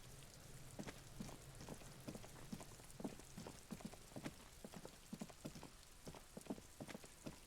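Rain falls on the city streets of Revachol in the game Disco Elysium, a faint steady wash of rainfall dotted with irregular drips and taps throughout, with no voices.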